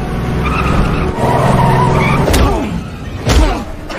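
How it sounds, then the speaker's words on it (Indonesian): A car in a movie skids and slams into a curb after its driver is killed, with a tire screech and a sharp impact thud, then a second heavy crunch near the end. "mobil yang mereka tumpangi itu pun menabrak sebuah trotoar karena bang supir yang kini telah meninggoy"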